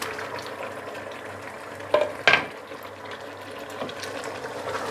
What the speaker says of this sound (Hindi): कोरमा हमारा बहुत अच्छे से फ्राई हो गया है